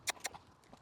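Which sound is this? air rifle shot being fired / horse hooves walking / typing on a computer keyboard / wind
horse hooves walking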